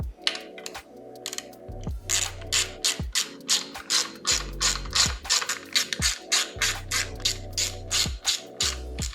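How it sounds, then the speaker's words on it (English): Ratchet tightening four 6mm bolts, loud close rapid clicking in repeated strokes with short pauses between each swing, steady and rhythmic with no talking. "So at this point we would take our 4 6mm bolts."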